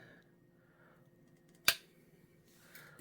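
One sharp, crisp snip from 14-inch Harbor Freight Doyle flush cut end nippers biting through material, a single close click against a quiet background.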